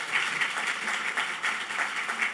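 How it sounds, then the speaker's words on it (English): Applause from a symposium audience at a women's heart health event after a keynote, steady dense clapping held at an even level throughout, with no voices over it. "Please give them a round of applause."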